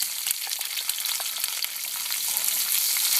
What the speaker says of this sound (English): And you're just going to fry them off and sort of caramelize them.